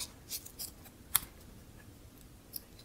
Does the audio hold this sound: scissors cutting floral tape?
yes